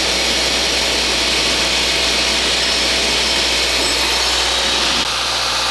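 A 2024 Subaru Legacy engine idles close by while warming up, a constant low rumble and hiss, running evenly throughout, with a slight shift in tone near the end.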